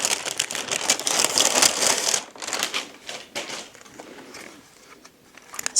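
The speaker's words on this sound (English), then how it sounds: "all nicely wrapped up. Let's unwrap it." A wrapped solar motion light, a Berkeley model, being unwrapped up close: loud, dense crinkling and rustling of packaging for about two seconds, then quieter intermittent crackles and rustles that fade before a final crinkle.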